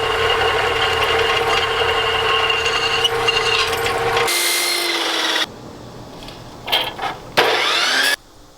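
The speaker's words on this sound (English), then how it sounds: "the chop saw leaves bad burrs" A chop saw cuts metal at close range: a loud, steady grinding whine for about four seconds, then bursts of sharp screech and rasping, with gaps between.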